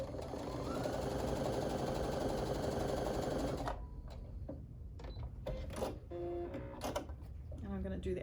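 Quilting sampler piecing: a sewing machine runs steadily for a few seconds stitching small fabric squares onto rectangles, then stops, followed by scattered clicks and handling noises with some speech-like sounds.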